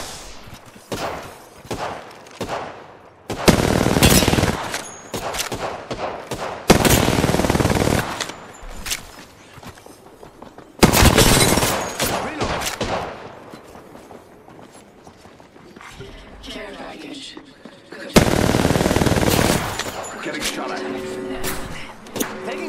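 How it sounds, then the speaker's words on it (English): Rapid automatic gunfire from the Apex Legends video game comes in four loud bursts of a few seconds each, separated by quieter stretches of game sounds and voice chat. "They're shooting at me."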